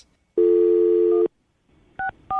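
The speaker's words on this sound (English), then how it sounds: "I'm gonna dial this phone over right now" A telephone keypad dialing: one long steady touch-tone held for nearly a second, a short pause, then two brief dual-tone beeps in quick succession, loud and close with no voices.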